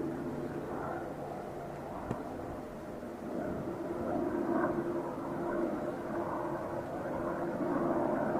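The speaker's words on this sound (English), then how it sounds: "That is a helicopter." Helicopter flying overhead at a rally stage, a steady low rotor and engine drone that swells slightly louder partway through, heard from outdoors amid spectator surroundings.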